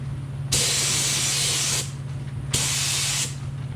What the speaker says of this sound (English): I have sprayed this with the material that Charles had provided me with